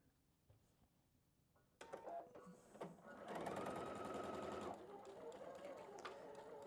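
A sewing machine stitches a quilt block, starting after a quiet pause and running in a fast, steady close-up whir with brief speed changes.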